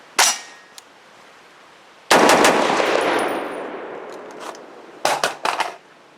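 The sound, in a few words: gunshots from Brownell's BRN-10 rifle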